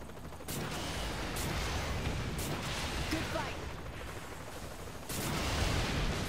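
Gunfire in the video game Saints Row: The Third, a dense, continuous volley of shots with sharper bursts near the start and end, heard under a steady game soundscape.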